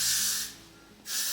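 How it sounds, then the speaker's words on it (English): Hairspray hissing from an aerosol can onto fine hair in two short bursts, close and crisp, separated by a brief pause. "Yeah, I'll just get some hairspray"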